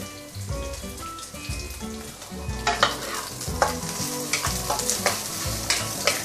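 Garlic and ginger being sautéed in a pan for Taiwanese three cups chicken: a rising, crackling sizzle with spatula scrapes, sharpening partway through, over background music and with no voices.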